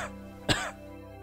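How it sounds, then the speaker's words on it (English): A single short cough bursts out over a quiet background, sharp and close, then fades within a fraction of a second. "covering up coughs,"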